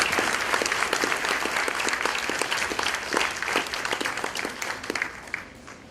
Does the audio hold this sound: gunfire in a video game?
no